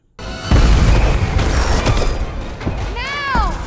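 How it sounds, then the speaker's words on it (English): A firework bursts with a loud boom in a Madame Web movie scene, followed by crashing and a sustained rumble, then rising whistling tones near the end. "You just got taken out by a fucking firework."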